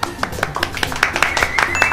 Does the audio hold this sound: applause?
yes